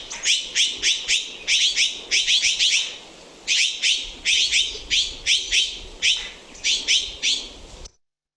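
A Mexican mountain bird species repeats sharp, bright chirping calls in quick rhythmic clusters, loud and close, with brief pauses between bursts and no talking.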